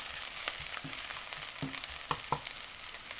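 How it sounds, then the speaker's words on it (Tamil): Asafoetida and fennel seeds sautéing in oil in a pan, giving a steady close sizzle with scattered crackles and a few soft stirring clicks, no talking. "பெருங்காயத்தையும் பெருஞ்சீரகத்தையும் போடுறேன். போட்டு வதக்கணும்"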